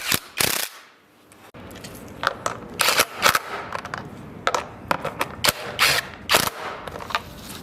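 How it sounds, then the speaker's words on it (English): Socket wrench ratcheting as bolts are tightened on a motorcycle front fender, with repeated sharp clicking bursts and metallic taps up close, alternating with brief pauses. "Use a socket wrench to mount the front fender to the front fender bracket."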